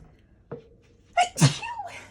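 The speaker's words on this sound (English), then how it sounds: "Excuse me, I have to sneeze." A single close sneeze: a short intake catch followed by a sharp, explosive burst and a trailing breathy release.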